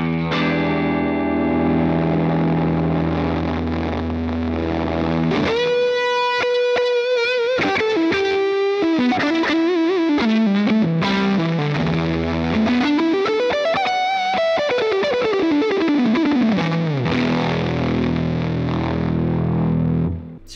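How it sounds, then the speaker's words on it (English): Electric guitar runs through a Jam Pedals Rattler distortion pedal in its low-gain mode. Sustained, gritty chords give way to single-note bends and a sweeping rising and falling run, all loud and continuous with no talking. "So you can hear in the low gain mode, we can get anything from sort of clean breakup tones"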